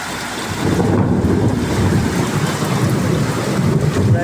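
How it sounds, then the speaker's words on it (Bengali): Thunder rolls as a deep, sustained rumble through a heavy rainstorm in Chattogram, rising after a brief quieter start and mixed with constant rain hiss and some wind buffeting on the microphone. "দেখেন বজ্রপাত করছে"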